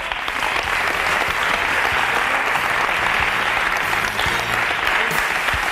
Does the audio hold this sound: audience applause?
yes